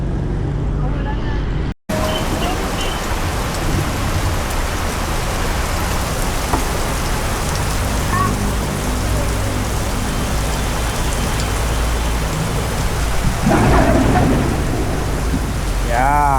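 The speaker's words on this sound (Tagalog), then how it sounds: "Inuulan na." Steady heavy rain hisses throughout at a mountain campsite, with a low rumble of thunder beneath and a brief dropout near the start; a voice speaks briefly toward the end.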